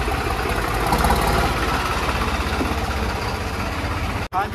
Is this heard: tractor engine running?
yes